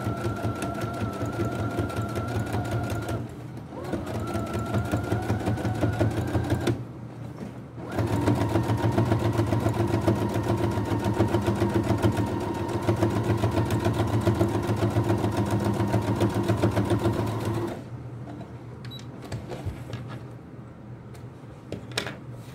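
A sewing machine stitches along a zipper edge on a triangular zippered pouch, running in a steady close whir in several stretches separated by short pauses, with no talk over it.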